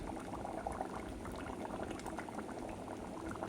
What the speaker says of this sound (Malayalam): അങ്ങനെ നല്ല വെന്ത് തിളയ്ക്കുകയാണ്, നല്ല ഒരു മണവും വരുന്നുണ്ട്.